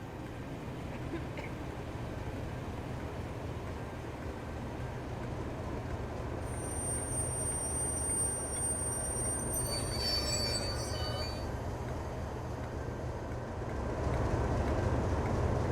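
Class 37 locomotive 37888 in battleship blue arrives into Shirebrook on a loaded test run, a steady rolling rumble with a high wheel squeal rising briefly midway, fairly close.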